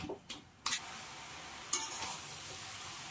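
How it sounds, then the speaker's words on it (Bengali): A spatula stirs food in a pan on the stove, giving a few scraping strokes with soft sizzling in between and a sharper clink near the end, close and fairly quiet. "এই যে খুন্তিটা দিয়ে আমি একটু ঘুটে দেবো"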